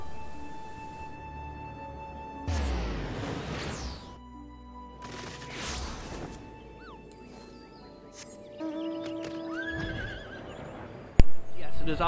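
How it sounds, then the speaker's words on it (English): A flaming horse mount in Final Fantasy XIV neighs and its hooves clatter among game effects and music, with talking over parts of it. "riding my flaming horse over the ground to where I need to go"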